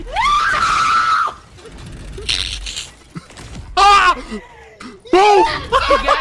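A loud, sudden scream of surprise bursts out during a Fortnite prank, followed by more shrieking cries and excited voices, close and intense.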